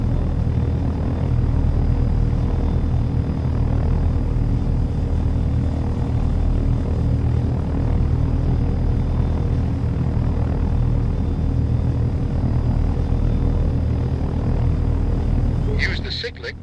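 A helicopter in the flight simulator game Take On Helicopters climbs steadily and then hovers, its rotor and turbine making a loud, continuous drone with low rumbling harmonics, and a speaking voice runs over it throughout.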